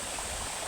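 Sagodsob Falls in Quezon pours with a steady, dense rush of falling water. The sound is constant and brief, with no voices.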